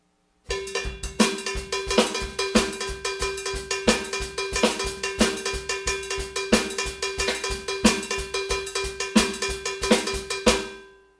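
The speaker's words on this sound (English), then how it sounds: "when you take it to the cowbell, it sounds like this, and I use the snare open." A cowbell rhythm played steadily with open snare hits on a drum kit, a repeating, evenly paced groove ringing out alone.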